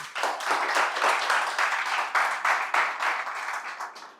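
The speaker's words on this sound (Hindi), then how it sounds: "एक बार अपने आप के लिए ताली बजाइए" Trainees at an Indian real-estate training session clap for themselves, a dense, steady round of applause from a room of people filling the whole stretch at moderate loudness.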